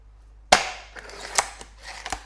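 Spring-piston Beeman Mantis air rifle being cocked, with a sharp loud mechanical snap followed by several lighter clicks and clacks spaced over about two seconds, close up with no talking.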